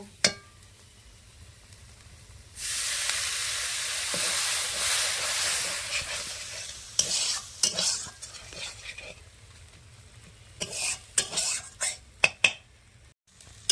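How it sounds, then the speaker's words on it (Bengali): Egg curry masala fries in a pan with a loud, steady sizzle, then a spoon stirs and scrapes against the metal, giving quick clinks and scrapes close by. "জল দিয়ে ভালো করে কষিয়ে নেব"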